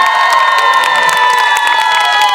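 A large outdoor concert crowd claps and screams cheers for a symphony orchestra and its conductor, a loud, continuous roar of shrill whoops and applause throughout.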